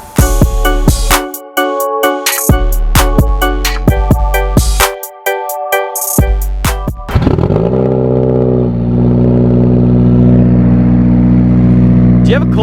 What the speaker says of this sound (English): get this thing started up.